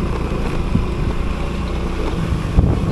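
Wind roaring over a microphone during a boat ride through flooded streets in Malabon and Obando, Bulacan: a steady, heavy rumble with low buffeting gusts and a faint motor underneath, no talk.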